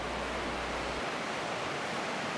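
Broad, constant roar of the Rio Mindo in Ecuador fills the scene, a dense steady wash of rushing water with no pauses or voices, like a fast river nearby.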